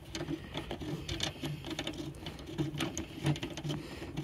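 A socket ratchets at a rear seat bolt inside a 2016 Subaru WRX STI, producing quiet, uneven clicking and light metallic rattles close by.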